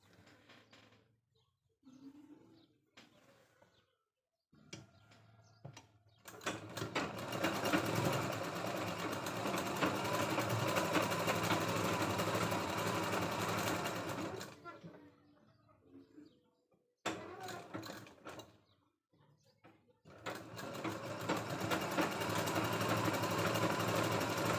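A sewing machine stitches a katori blouse in long, steady runs of close, even mechanical whirring, broken by short quiet pauses and brief stops and starts.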